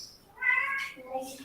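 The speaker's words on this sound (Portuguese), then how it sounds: "É gato que tem aqui." A cat meows close by, a drawn-out cry with a second shorter call trailing after it, heard over faint room tone during an indoor class.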